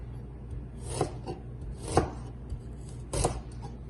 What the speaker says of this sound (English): I'm gonna slice the ginger